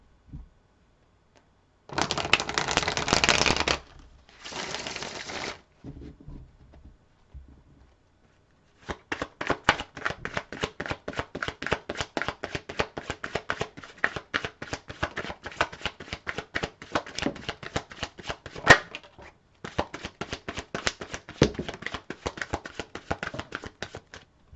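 A deck of tarot cards is shuffled close up, short riffling bursts followed by long stretches of rapid, crisp flicking and rustling, with no voice present.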